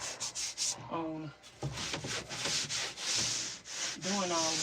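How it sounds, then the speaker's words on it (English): Steady scratchy sanding on wood inside a van being converted into a tiny home, strokes rising and falling continuously, with brief bits of a voice and clatter in the background. "what I've been doing is sanding and prepping"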